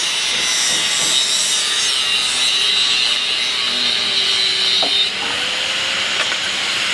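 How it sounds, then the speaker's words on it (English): An angle grinder cutting steel rebar on a house-building site in Vietnam, a loud continuous high-pitched grinding hiss that stays steady and close throughout with no talking. "Everything's done with grinders here."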